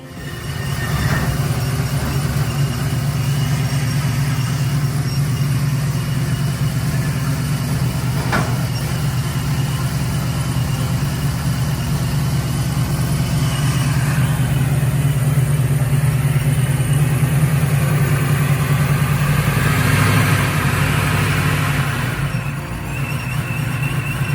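A supercharged LS V8 in a 1967 Chevrolet Nova, run with a Procharger, holds a steady, loud idle for the whole stretch, with a deep rumble and a faint whine riding on top. No one speaks.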